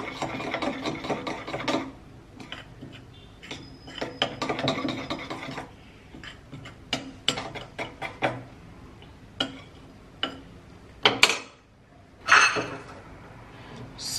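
A cucumber and soap face mixture being stirred by hand in a bowl, a run of close, quick clinking and scraping strokes that come in bursts and pauses, with a few sharper knocks near the end.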